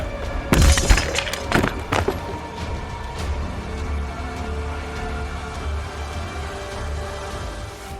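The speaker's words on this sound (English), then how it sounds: "you can hear wood-breaking, bones snapping, screams cut short by loud smashing sounds of destruction" Wood breaking and smashing in a destruction scene, two or three sharp, loud crashes and thuds early on, then a lingering low rumble and debris settling.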